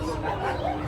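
A short, close dog bark or yelp, loud and brief, at the Sonpur animal fair.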